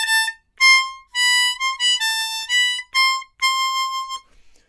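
A melody is played on a C diatonic harmonica as a run of clear, reedy single notes, some short and some held, in separate phrases with brief gaps and a soft trailing flutter at the end, alone without any voice.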